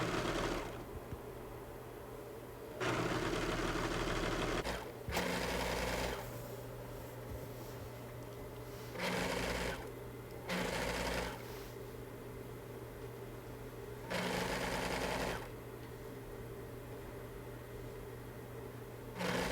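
A sewing machine runs in several short bursts, stitching a seam on a pullover hoodie, with pauses between runs over a steady low background hum.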